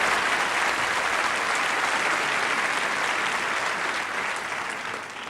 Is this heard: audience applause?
yes